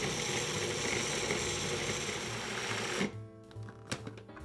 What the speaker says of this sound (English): Pop them in the food processor. Then you're going to puree them until they're really super smooth.